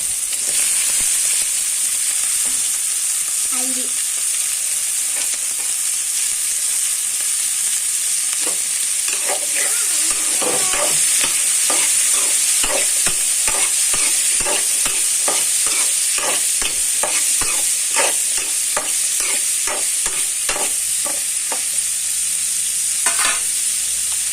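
Capsicum stir-frying in a hot pan gives a steady, loud sizzle throughout, with a long run of rhythmic scraping and stirring strokes from the utensil joining in during the second half.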